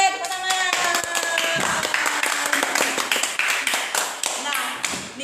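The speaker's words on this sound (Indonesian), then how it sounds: "Tepuk tangan." Hand clapping at a community poetry gathering comes as a run of sharp, distinct claps from a small group, fairly near and moderately loud, with some voices murmuring alongside.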